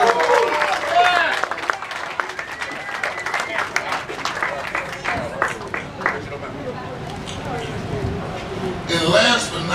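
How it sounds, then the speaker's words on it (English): Audience applause at the Philly Music Walk of Fame ceremony honoring an inductee, a steady wash of clapping from a crowd that runs through the whole stretch and swells again near the end, with a voice talking over the start. "Let's give her a round of applause."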